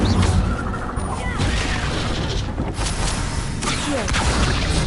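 Incendio fire spell blast in the video game Hogwarts Legacy, a loud sustained fiery roar with crackling bursts and whooshes filling the whole clip.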